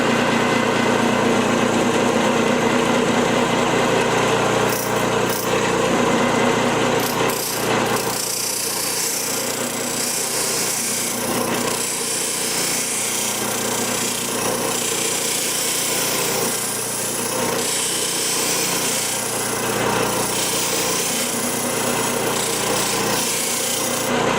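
A chisel ground against a powered sharpening wheel, a loud continuous abrasive rasp with a whining motor underneath, close, unbroken and without speech.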